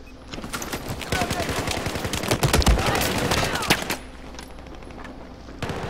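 Automatic gunfire in the Battlefield 4 shooter game: loud, close, rapid bursts of shots with overlapping distant fire, building to a dense volley midway before thinning out.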